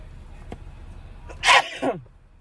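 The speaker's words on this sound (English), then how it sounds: "It made me sneeze" A single sharp human sneeze bursts out close and loud, with a quick intake of breath before it and a short trailing exhale after, over a quiet background.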